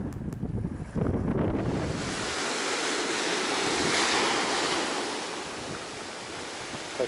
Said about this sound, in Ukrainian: це заспокоюється море після шторму і вода дуже мутна